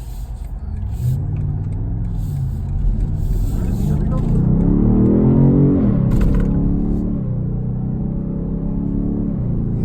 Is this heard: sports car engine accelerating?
yes